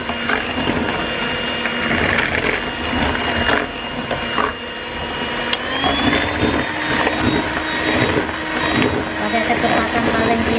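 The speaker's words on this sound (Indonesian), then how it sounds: "Kita mixer dulu ya, sampai putih mengembang." An electric mixer runs at top speed beating cake batter of sugar, eggs and emulsifier for a tiramisu cheese sponge cake, a steady loud whirring drone throughout with a voice talking over it.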